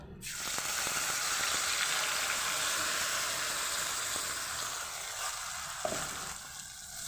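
Loud, continuous sizzle of spice paste frying in hot oil in a kadai, close up, with a few faint stirring clicks and no talking.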